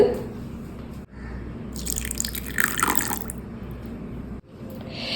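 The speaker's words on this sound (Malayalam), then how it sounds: "ഞാൻ ഇതിലേക്ക് കുറച്ച് പാൽ ഒഴിച്ചു കൊടുക്കുന്നുണ്ട്" Milk poured onto cashew nuts in a bowl, a steady close trickling stream lasting a few seconds and ending abruptly, with no talking.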